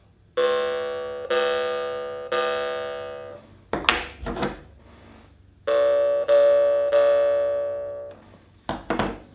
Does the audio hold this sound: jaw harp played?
yes